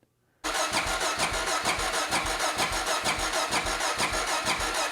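A Honda XR650L motorcycle engine is cranked over with its spark plug out, the starter spinning it in a fast, even chugging rhythm of pulses that starts abruptly after a brief silence and continues loud and close.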